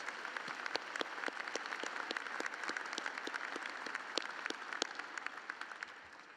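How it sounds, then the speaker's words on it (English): Crowd at a fall graduate commencement ceremony applauds the platform guests, a dense, continuous patter of many hands with crisp individual claps standing out, fairly distant and even throughout. "Please join me in a round of applause for these platform guests."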